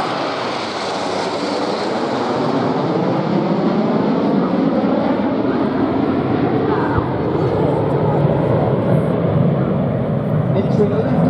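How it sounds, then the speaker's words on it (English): Red Arrows RAF aerobatic team jets roar through a flying display at the Duxford VE Day anniversary air show, a loud sustained jet rumble sweeping in pitch as they pass, with a commentator talking over it. "It's the Royal Air Force aerobatic team."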